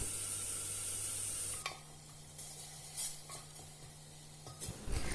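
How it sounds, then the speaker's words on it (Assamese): Spice paste frying in oil in a home kitchen, a soft steady sizzle with occasional stirring scrapes and clinks of a utensil against the pan, heard close and alone. "ভালদৰে এতিয়া গুটেখিনি ভাজি লম ইয়াৰ পৰা তেল ওলোৱালৈকে"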